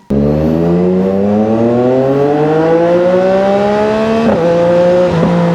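A high-revving 2025 CFMOTO 675SR-R sport motorcycle engine climbs steadily in pitch, loud and close, with two quick dips as it shifts gears before pulling on.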